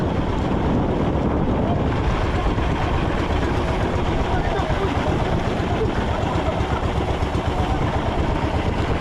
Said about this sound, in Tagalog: Lakas na ngayon ang bagyo.